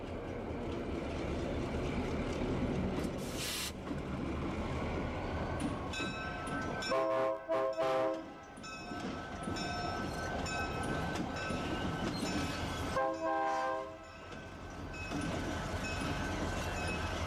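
A Santa Fe train rumbles past with rattling wheels south of Crowley, Texas, and a loud horn sounds in several long blasts, some overlapping, before the rumble continues.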